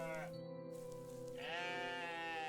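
Goats bleat in the video game OneShot, a steady harmonic bleat layered over a held musical tone, with a brief gap before a second rising bleat sustains to the end.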